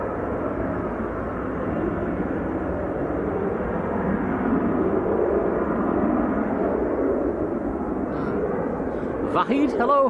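A Finnair airliner from Helsinki roars steadily at an airport, a broad continuous jet rumble that eases slightly near the end as a few brief sharper sounds cut in.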